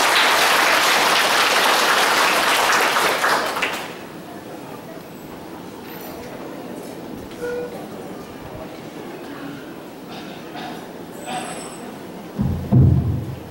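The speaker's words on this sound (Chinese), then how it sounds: "掌声有请王鼎传师。" Applause at the opening ceremony of a Buddhist hall as a master is invited to speak: a dense, loud crowd clapping for about four seconds, then fading into a quieter murmuring room with faint thumps and a low knock near the end.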